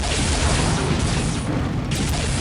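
A grenade explodes in Unreal Tournament 99, heard as a dense, sustained, loud burst of broadband roar that fills the whole moment with no pause.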